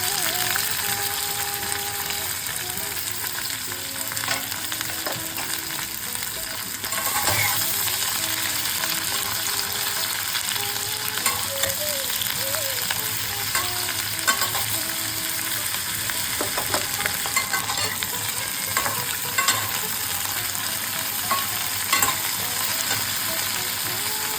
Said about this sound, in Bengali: আমরা এবার কেটে রাখা সবজিগুলো দিচ্ছি বেগুন শিম আর আলু দিয়ে দিলাম